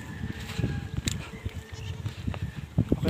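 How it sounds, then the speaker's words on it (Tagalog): Goats on a small farm bleat in short, scattered calls over a busy, rustling background, close and fairly quiet, with a few louder bleats near the end. "Ito yung kambing natin ah."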